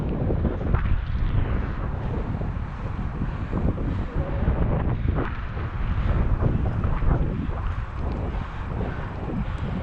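Wind buffets a GoPro microphone outdoors, making a constant low, rough rumble with gusty surges that fills the whole clip.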